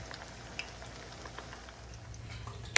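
Paleo chicken tenders fry in a pan with a steady, soft sizzle and faint crackling pops, one sharper snap near the end.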